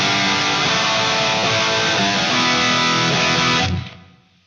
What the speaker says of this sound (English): I've added a reverb to that, like I said, just a large room